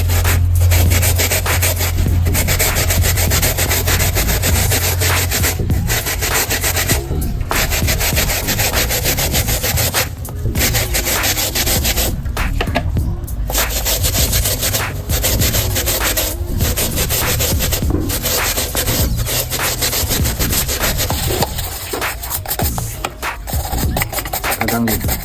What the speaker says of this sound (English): press or rub the paint roll gently so that the gasoline can work optimally